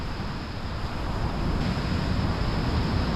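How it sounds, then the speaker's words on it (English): Strong wind roars and buffets the microphone on the beach at Southbourne, a continuous loud rumble with a surf-like wash underneath and no speech. "it's so windy, my bait elastic's going everywhere"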